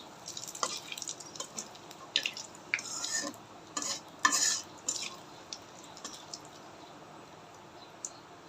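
Cumin seeds, two bay leaves and four or five dried red chillies sizzle in hot oil for a tempering of mashkalai dal with hilsa fish head, with bursts of crackling and spitting over a steady low hiss, close by.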